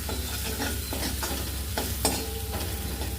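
Black peas sauté in a pan with turmeric and chili masala for a Konkani-style curry, a steady close sizzle with repeated scraping stirs of a spoon through the mix.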